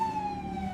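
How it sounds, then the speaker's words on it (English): A police car siren wails in a brief, steady tone that slides slightly downward, fairly close and alone without talk. "The siren! Ah! We're using the siren!"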